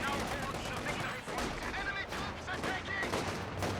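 Dense, continuous small-arms gunfire and explosions from a Company of Heroes 2 battle, loud and busy throughout with sharp bursts overlapping in a steady clatter.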